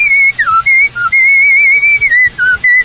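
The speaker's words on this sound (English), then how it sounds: "No wonder he's whistling." A person whistles a bright, lilting tune in a 1957 radio advertisement for Rose Oldsmobile, clear and close with short pauses between phrases, no talking.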